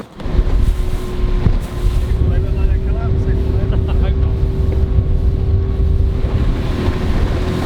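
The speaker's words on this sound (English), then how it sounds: "Hopefully the engine will start again." A small outboard engine on a tiny speedboat runs steadily throughout in the Bristol Channel, a continuous drone blended with wind buffeting the microphone and water noise, with no talk.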